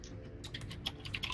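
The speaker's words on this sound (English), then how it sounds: "I can hear someone typing like crazy." Fast, frantic typing on a computer keyboard, a quick patter of light clicks heard faintly in the background.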